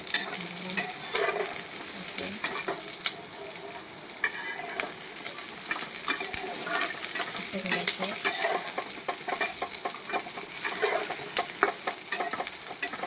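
Onions, whole but quartered and stuffed with masala, fry in hot oil with a continuous crackling sizzle, broken by occasional clinks and stirring as they are moved in the pan.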